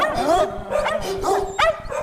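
Puppies yapping and barking as a sound effect in a radio advert, several high, bright barks in quick bursts, close and loud over a faint background voice.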